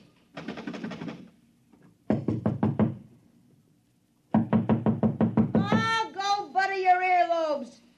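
Three bursts of sharp knocking on a door, several raps each, followed by a voice calling out afterward.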